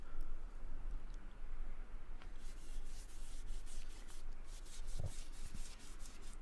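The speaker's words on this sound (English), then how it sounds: "And for that I'm using a 4-inch brush." Finish is brushed onto pallet wood boards for a garden fence with a 4-inch brush, a steady close-up bristle rubbing that rises into brisker, louder strokes partway through, with no speech.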